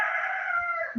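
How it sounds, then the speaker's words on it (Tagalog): A rooster crows once, a single loud sustained call held for about a second, close and clear, ending abruptly. "Sumagot na yung tandang para sa'yo."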